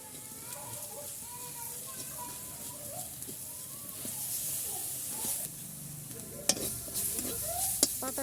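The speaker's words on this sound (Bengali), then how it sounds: "পাতাটা আমার ভাজা হয়ে গেছে" Leaves frying in a little oil with black cumin seeds in a pan for a bharta, giving a steady low sizzle and hiss with stirring scrapes and a few sharper clinks near the end.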